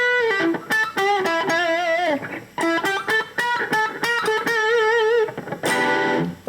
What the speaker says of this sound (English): go to my boogie sound